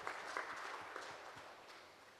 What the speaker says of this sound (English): let's clap our hands and let's welcome God's servant